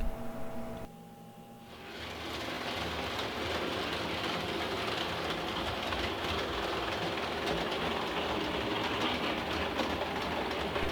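Märklin 3037 model locomotive running on vintage M track, a steady rumbling rattle with clickety-clack that starts after a brief quieter moment and continues unbroken and close.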